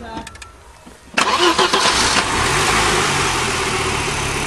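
Audi S6 quattro engine cranks briefly, then catches with a sudden loud roar, settling into a steady, mild idle through the factory exhaust, heard close up.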